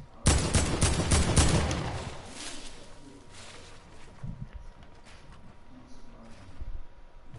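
Burst of rapid gunfire in a video game, loud and dense at the opening and then thinning into scattered, fainter shots with voices talking over it.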